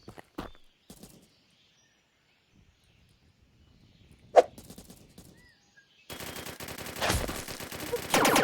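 Rapid video game gunfire bursts in a Turkish online shooter match, with a few sharp shots early on, a louder single crack midway, then a sustained dense barrage of automatic fire filling the last seconds.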